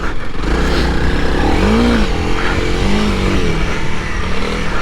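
A Honda CRF300L single-cylinder dual-sport motorcycle rides off-road through soft sand, its engine droning loud and close with rising revs and steady rumble throughout.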